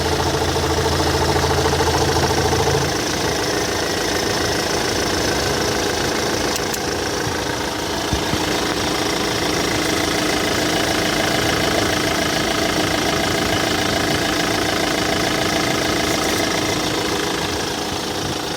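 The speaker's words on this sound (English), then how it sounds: "So the engine sounds good." A 2007 Kia Sorento diesel SUV engine idling steadily nearby with a rough, knocking clatter, a deeper rumble briefly at the start, no voices.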